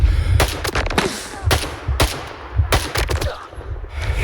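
Bandits ambushing with gunfire in a video game, a rapid burst of loud, close gunshots in quick uneven volleys, crackling one after another with brief gaps.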